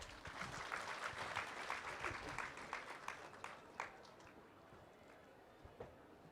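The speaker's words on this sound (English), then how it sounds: "Can we have a round of applause for her?" Audience at a literature festival magic session applauds a volunteer coming on stage, a faint, fairly distant patter of clapping that thins out toward the end.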